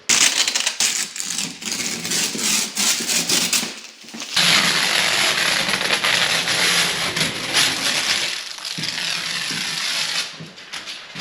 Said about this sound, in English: Let's remove the tape,